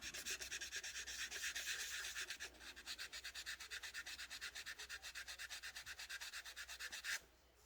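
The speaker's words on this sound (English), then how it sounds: "we don't want to sand that down too much" Filler being hand-sanded on the hood of an AMT 1968 Corvair plastic scale model, a close, soft scratchy rubbing: a continuous scrub at first, then quick rhythmic back-and-forth strokes that stop abruptly near the end.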